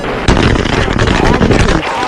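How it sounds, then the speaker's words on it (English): A loud, close burst of 20mm cannon fire from an F-16 jet strafing insurgents in combat. It starts abruptly and holds as one continuous roaring rip for about a second and a half, then trails off. "Another stream of 20mm rounds slammed into the insurgents who were firing at the American helicopter."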